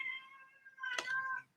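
A cat meows close by, one drawn-out tonal call that wavers in pitch, then a short breathy burst and a rising second meow, clear and alone with no talk.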